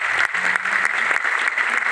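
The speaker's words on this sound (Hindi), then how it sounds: "हमारे ग्रेट गुरु दीपक सर के लिए जोरदार ताली होना चाहिए।" Audience applause for Deepak sir at a gathering, a dense steady wash of clapping at close range that carries evenly with no break.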